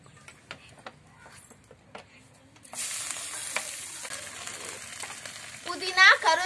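Oil sizzling in a pan for green country chicken gravy as something is stirred through it; a few sharp clicks and taps come first, then a soft steady sizzle with scraping stirs, growing busier toward the end.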